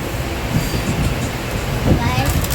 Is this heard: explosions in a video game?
no